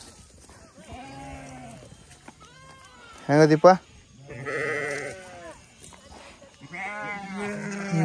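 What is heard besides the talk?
sheep lambs bleating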